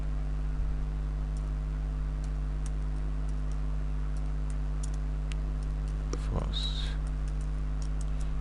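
Keys on a computer keyboard are tapped in sparse, light clicks against a steady electrical hum, with a brief low thump and a short tone partway through.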